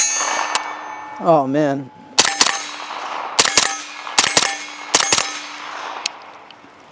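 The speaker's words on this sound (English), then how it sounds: "I'm just gonna go regular, normal semi here for a bit and see how this thing shoots." A Springfield Kuna pistol-caliber carbine on a Nexus Evo lower fires semi-automatic in sharp single and double shots, each with a bright metallic clang. A short rising tone is heard before the first shot, and a voice briefly speaks between shots.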